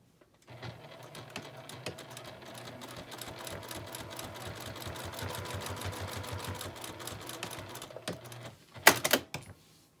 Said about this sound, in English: And then I'm just going to sew down each side.